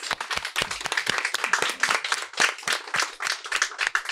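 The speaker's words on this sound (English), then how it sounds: "Let's give our author a round of applause." An audience at a bookstore author talk gives the author a round of applause: quick, crisp handclaps from a modest crowd, fairly close and steady for a few seconds with no talking.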